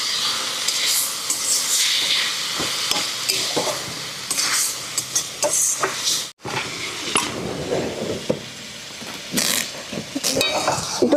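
Fiddlehead fern and egg fry in a pan, giving a steady hissing sizzle with scraping stir strokes and a brief break midway.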